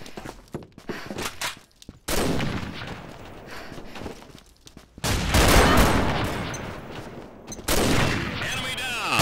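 FR-F2 sniper rifle in a video game fires several sharp shots between stretches of busy gameplay noise and bursts of loud combat, with faint voices in the background.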